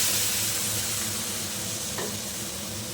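Poppy seeds and spices are stirred in a hot frying pan, with a steady, close sizzle and soft scraping running throughout and no voices.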